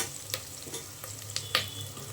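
Onions frying in oil for hotel-style tomato bath, stirred now and then: a low steady sizzle with a few brief scraping stirs near at hand, no talking.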